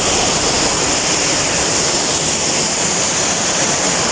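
Gethsemane Falls, a hidden waterfall in Bayugan City swollen with overflowing water, gives a loud, close, unbroken roar of crashing water that never changes in texture.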